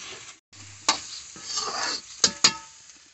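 A spoon stirs a bottle gourd and tomato curry in a pan, with soft scraping, a light sizzle and a few sharp clinks against the metal.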